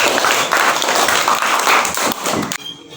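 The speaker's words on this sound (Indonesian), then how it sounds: "Kasih tepuk tangan." Schoolchildren in a fifth-grade classroom clap their hands together, a loud, close burst of many claps that runs for a couple of seconds and then stops abruptly, leaving a quiet room.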